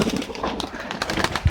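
Pigeons coo and call close by, their soft throaty notes repeating over a busy background of outdoor noise.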